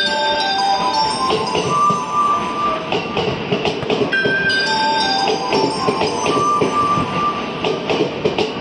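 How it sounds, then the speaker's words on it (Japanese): A JR 209 series 500-subseries out-of-service electric train pulls into track 11 at Omiya Station. The rumble and rolling wheel noise are steady and close, with bell-like chimes and higher tones ringing over them. "回送電車のご到着です。"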